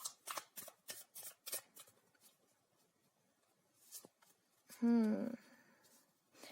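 Tarot cards shuffled by hand in a quick run of crisp riffling bursts, then quieter handling as cards are drawn, ending with a brief louder tonal sound near the close.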